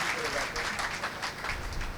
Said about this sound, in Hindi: तालियां भी बजाओ तो फिर ढंग से बजनी चाहिए